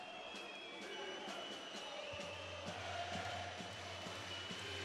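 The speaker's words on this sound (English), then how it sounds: "Fans singing, chanting, cheering, trying to give their team a lift." Basketball crowd at a FIBA EuroBasket 2017 game between Latvia and Turkey, a steady broad roar of fans singing, chanting and cheering that fills the arena throughout, with a low sustained hum entering partway through.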